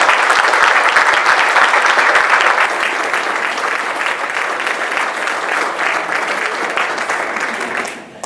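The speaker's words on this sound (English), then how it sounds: "let's give him a huge round of applause for taking time to be here with us" An audience at a StartupGrind Boise event claps for a speaker: loud, dense applause from a crowd that holds steady for several seconds, eases slightly, then fades out near the end.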